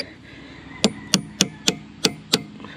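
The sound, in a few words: punch hammered to drive out tractor lift arm bushing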